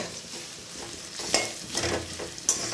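Onions sizzle in hot oil, a steady crackling fry punctuated by a few scraping stirs of a spoon against the pan, with boiled greens to be added.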